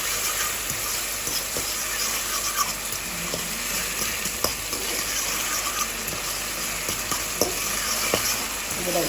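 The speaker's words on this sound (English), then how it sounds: "I then added my tomatoes and just stirring this in" Tomatoes being stirred into a frying pan for lasagna, with a continuous loud sizzle and scattered scraping taps of the utensil for about nine seconds, no talking.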